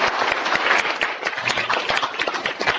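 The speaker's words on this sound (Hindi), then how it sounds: "मुकेश भैया को दोबारा आमंत्रित किया जोरदार तालियों के सामने।" A school audience applauds, dense fast clapping from many hands filling the room steadily throughout.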